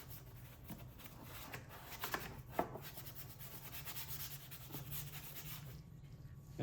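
Soft, close rubbing and scrubbing as dressing is worked into engine bay plastic pieces with an applicator, a quiet continuous brushing texture with a few light taps and knocks.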